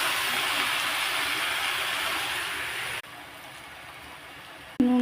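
Leafy greens are dropped into hot oil with fried onions and sizzle with a loud, steady hiss that falls away sharply partway through, followed by a brief clink at the end.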